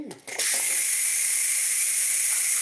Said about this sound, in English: now we're going to release the steam